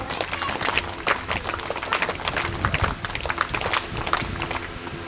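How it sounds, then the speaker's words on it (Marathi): An audience at a community gathering claps together, a dense, continuous wash of applause filling the space at full volume from start to end. "तुम्ही स्वतः आणि टाळ्या वाजवा आणि तुमचं स्वागत करा जोरात"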